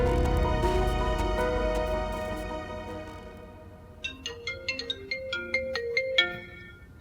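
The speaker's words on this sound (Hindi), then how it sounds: "अब मैं हरीशा को फोन कर लेता हूँ" A phone rings during an outgoing call: a sustained electronic ringtone, then a quick, bright melodic run of notes, clear and close.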